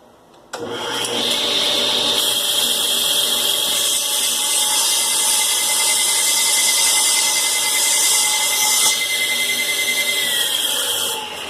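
A power saw cuts a burnt wooden drawer front being resurfaced, starting abruptly with a loud, steady high-pitched whine and grinding that holds for about ten seconds, close and alone without talk.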